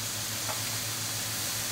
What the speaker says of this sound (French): On va leur mettre un bon morceau de beurre dedans.